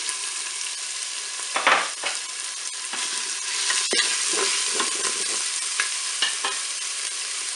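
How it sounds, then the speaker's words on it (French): Cod pieces and onion sauté in a hot Cookeo pot, a bright continuous sizzle with irregular stirring scrapes and knocks from a utensil, close and fairly loud. "Je vais faire revenir mes morceaux de poisson, cabillaud. Je vais ajouter mes morceaux d'oignon."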